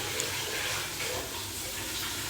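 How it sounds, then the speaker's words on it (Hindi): Tap water runs steadily into a kitchen sink while dishes are washed, a soft continuous splashing gush heard close by. "और इस तरह इधर धो रही है बर्तन"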